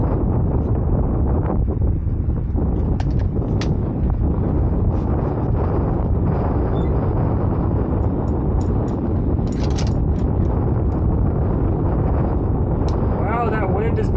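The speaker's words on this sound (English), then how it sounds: "Wow, that wind is bad." Strong wind buffets the microphone outdoors at a rifle range during a Ruger American rifle accuracy test, a loud continuous roar with gusting rumble that stays constant throughout, with occasional faint voices in the background.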